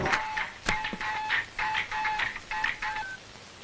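A telephone number is dialed as a quick series of about ten short beeping keypad tones in uneven rhythm, clear and close, with no talking.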